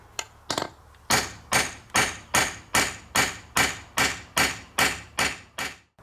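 Repeated hammer blows on a chisel against a farm-made metal part, about a dozen sharp ringing metallic strikes in a steady, evenly spaced rhythm, loud and close, with no talk.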